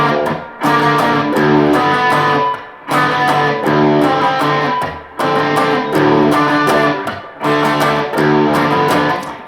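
Guitar in DADGAD tuning plays a main riff, a loud, heavy, distorted repeating phrase that cycles in four near-identical passes with brief gaps, played alone without talk.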